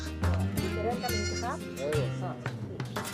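Sheep of Western Sahara nomads bleat loudly and close by, several wavering calls overlapping one another across a few seconds.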